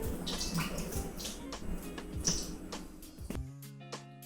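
Melted dark chocolate being poured for cake frosting, a thick wet pouring and splashing sound lasting a few seconds at close range, ending in a brief tonal clink.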